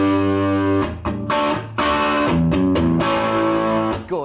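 A distorted electric guitar plays a song riff at full speed, loud and close, with punchy chord stabs separated by short gaps.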